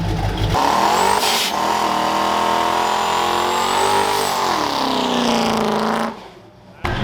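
At a car meet, loud engines rev hard and accelerate close by while cars do burnouts, a sustained roaring drone with rising pitch and tire screech, cutting off near the end.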